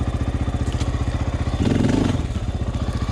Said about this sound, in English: I really need to practice my pivot turns on this big bike.